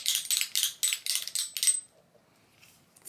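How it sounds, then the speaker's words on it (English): A pair of shoes gives a quick run of about seven bright, clicking clacks in a steady rhythm, close and crisp, then falls silent before one last click. "they make this fun little clickety clackety noise if you're just like chilling"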